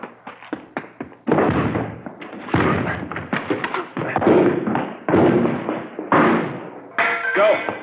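Police forcing and hitting doors open, a series of heavy thuds and bangs, some sharp taps at first, then loud repeated crashing impacts at close range.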